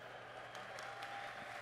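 Audience applause in a large hall at a Gamescom presentation of Civilization 7, a steady, dense wash of clapping that runs unbroken and fairly loud.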